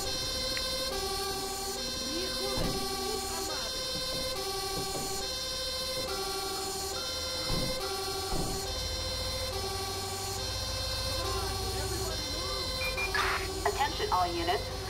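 Fire truck sirens from the GTA 5 video game wail continuously in steady repeating tones over a low engine rumble, with a voice talking over them.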